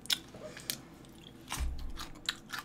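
Eating spicy Nene Chicken Shocking Hot fried chicken with a side of pickled radish produces soft, close chewing and a few crisp bites, spaced irregularly with quiet stretches between, no talking.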